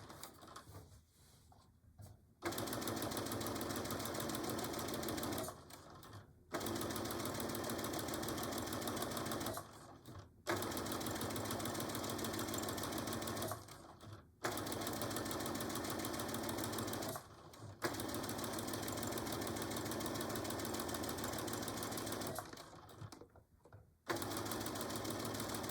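A sewing machine back stitching a Betty Boop pillow cover: steady, loud motor whirring in several long bursts, broken by short pauses where the stitching stops.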